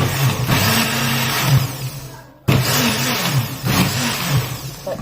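A blender whirring loudly as it grinds white pepper and spice powder for Cameroonian chili, cutting off for a moment and then starting up again at full power.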